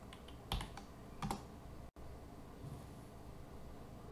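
Computer keyboard keys clatter in two short bursts while code is typed, a handful of close clicks in a quiet room, then only faint background hiss with no talking.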